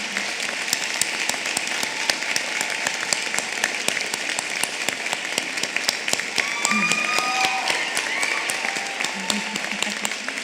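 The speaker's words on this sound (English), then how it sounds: "please stand or wave and receive our applause" A commencement audience for a hotel and restaurant management college claps for graduating honors students, sustained dense applause with sharp individual claps throughout and a few faint whoops or whistles partway through.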